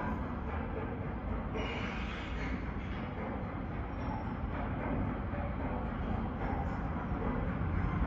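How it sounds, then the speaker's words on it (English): An Amtrak Acela train bound from Washington to Boston passes beneath a footbridge over the tracks in Hamilton, New Jersey, a steady heavy rumble and rushing roar of rail cars that stays loud and close throughout. "on the footbridge over the tracks, we have an Acela, Washington to Boston"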